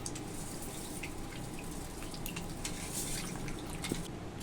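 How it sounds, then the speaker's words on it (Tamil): Soaked tamarind is squeezed and dissolved by hand in rice-washing water while making tomato rasam, giving a soft, continuous wet sloshing and squishing close by. "புளியை நல்லா கரைச்சிக்கோங்க."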